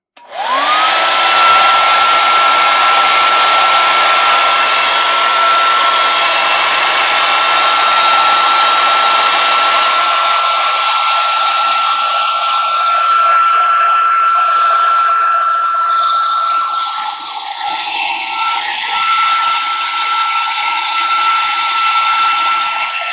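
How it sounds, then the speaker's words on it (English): A hair dryer blows steadily and loudly with a constant whine, its airflow roaring continuously for over twenty seconds, the tone easing slightly near the end. "And it says dry it with a hair dryer."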